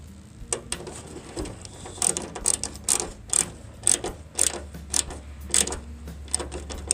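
Rapid ratcheting clicks in short bursts as bolts are tightened in a star pattern during a fuel pump replacement on a 2006 Ford E-350 van, close and fairly loud over a low background hum.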